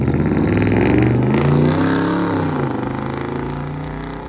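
A straight-piped 2004 Ford F-150 with a 5.4L Triton V8 revs up loudly and then winds down, its raw, rumbling exhaust swelling and falling away with no voices over it.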